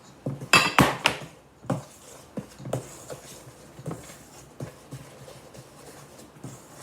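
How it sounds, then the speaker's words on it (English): Spoon stirring flour and salt into a bowl of cinnamon sugar blondie batter, producing a series of irregular clinks and scrapes, louder at first, then softer taps and scrapes continuing with no talking. "we're going to continue to stir that"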